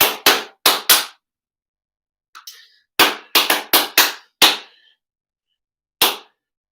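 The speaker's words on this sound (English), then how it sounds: "Everything I clap, except for when I say the words, don't clap this one back." Sharp hand claps beat out rhythmic patterns in a primary music lesson, a quick group of four, a faint rustle, then a cluster of five and a final lone clap, each crisp and close in a quiet room.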